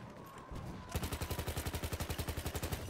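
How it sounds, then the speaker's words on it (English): SMLE bolt-action rifle fire in Battlefield 1, a sharp report followed by a fast, rhythmic train of rattling gunfire, fairly quiet overall with no talk. "nice shot with the SMLE"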